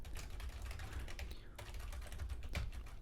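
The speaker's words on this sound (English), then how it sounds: "So if we just type in a few more words," Rapid typing on a computer keyboard while entering text in the Nano editor on Linux, a close, steady clatter of keystrokes with a brief pause midway before the tapping resumes.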